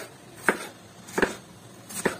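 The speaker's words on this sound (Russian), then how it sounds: "я понашинкую пока капусту, я ее делю вот так на 4 части, да, и просто начинаю мелко-мелко шинковать" A knife finely shreds cabbage on a board in three distinct, sharp chopping strokes spaced evenly, close and crisp against a quiet background.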